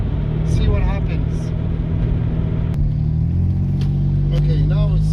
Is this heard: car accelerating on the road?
yes